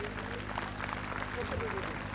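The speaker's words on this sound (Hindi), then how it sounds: "और जोरदार तालियां एक बार फिर से इन बच्चों के लिए।" A crowd applauds children at an International Yoga Day 2022 celebration in Rose Garden, Ludhiana, a brief steady patter of clapping mixed with an announcer's voice over a loudspeaker.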